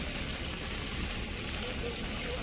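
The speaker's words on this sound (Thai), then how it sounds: "ชุ่มฉ่ำจริงๆค่ะฝนตก" Steady rain pours outside a factory worker's room in rural Isan, Thailand, a dense continuous hiss with no breaks across the whole span, fairly loud and close.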